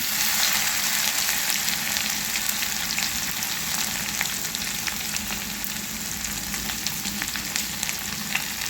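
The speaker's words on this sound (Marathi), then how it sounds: "इथे आता आलं लसूण याची पेस्ट घालायची आहे।" Ginger-garlic paste added to hot oil with chilies in a pan, producing a loud, steady sizzle with scattered pops and crackles that holds for several seconds.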